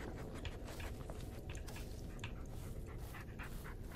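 A dog pants close by in the Blair Witch video game, a steady rapid breathy rhythm with faint chewing-like clicks, continuous throughout.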